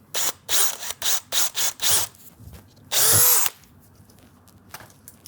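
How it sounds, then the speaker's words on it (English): A power drill with a 1/4-inch bit whirs in a rapid series of short bursts, then one longer sustained run, close and loud with quiet gaps between. "Go ahead and use the 1/4" drill bit."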